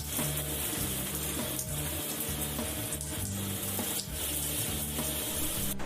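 Hot shower water runs in a steady, unbroken hiss with faint low tones humming underneath, continuous and close throughout.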